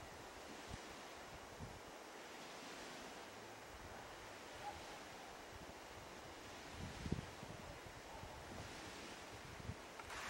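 Wind gusts and choppy waves wash across a normally calm lake turned stormy, a steady broadband roar with buffeting microphone wind noise and a few louder gusts, no voices.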